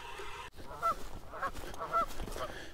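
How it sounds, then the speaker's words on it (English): Geese honk repeatedly at a shallow cove while someone fishes for catfish, several loud, nasal calls spaced about half a second apart over outdoor background noise, with no talking. "The geese do not like me here."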